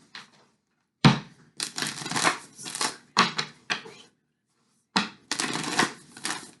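Tarot cards being shuffled, a run of crisp papery riffles and slides in several bursts with short pauses between them, close and fairly quiet, with no talking.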